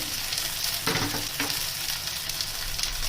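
Ground spices, including salt, turmeric, coriander and cumin powder, fry in oil in a pan for a Bengali jackfruit and prawn curry, with a loud continuous sizzle and a few bursts of scraping as the mix is stirred.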